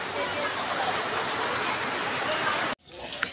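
Steady rain hisses continuously as a broad, even patter, then cuts off abruptly, leaving quieter ambience with a faint tap.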